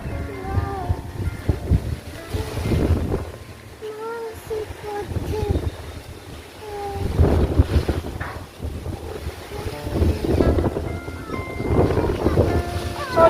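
Heavy storm wind roaring and gusting steadily against the microphone, loud and rushing, with a person talking intermittently over it.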